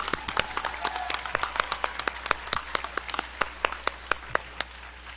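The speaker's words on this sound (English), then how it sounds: "let's give them another round of applause" Audience at an adult education graduation ceremony claps in a steady round of applause, individual sharp claps standing out close to the microphone over a broader crowd, with no talking.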